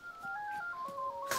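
Telephone in a house within a DayZ game, a short electronic tone sequence of stepped pitches lasting just over a second, fairly close with no talking.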